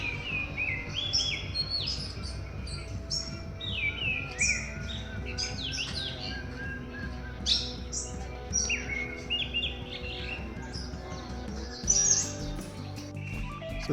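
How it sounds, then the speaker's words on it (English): Several birds sing and chirp continuously in the forest at Sattal in Kumaon, with overlapping calls near and far and a steady low rumble of background noise underneath. "Just listen bird voice."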